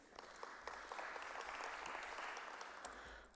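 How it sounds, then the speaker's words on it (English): Audience applause for a guest panelist at an online electoral commission thought-leadership event on digital democracy, a steady, moderately faint wash of many hands clapping throughout. "A round of applause, please"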